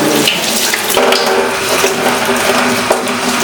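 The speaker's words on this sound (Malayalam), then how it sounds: "നല്ല വൃത്തിക്ക് കഴുകി എടുക്കണം" Taro leaves are rinsed under a running tap, which gives a loud, steady rush of water with light handling clatter mixed in.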